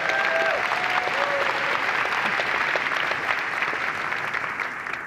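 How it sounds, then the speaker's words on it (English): A conference audience at a Salesforce data and analytics event claps in steady, dense applause for about five seconds, tapering slightly at the end. "give a big applause to Harim."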